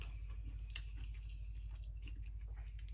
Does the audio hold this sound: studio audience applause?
no